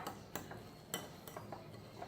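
Banana-based breakfast cookie batter being mixed by hand in a bowl, with a few sharp utensil clinks and scrapes against the dish at irregular intervals, fairly quiet and close, with no talking.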